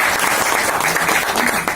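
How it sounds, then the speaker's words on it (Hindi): A meeting crowd claps loudly together, a dense continuous burst of applause filling the room from start to finish. "मीटिंग में बोलो तो एक बार जोर से ताली मारो"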